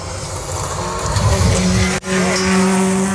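A rally car on a sprint stage at a working dog rally, engine roaring loudly and steadily nearby, with a brief dip before the engine note picks up again as it drives on.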